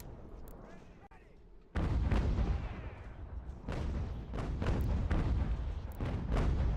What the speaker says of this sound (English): Just gonna be using our mortars to hit their center